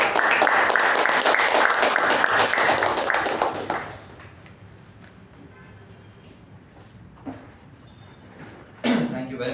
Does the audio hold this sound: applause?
yes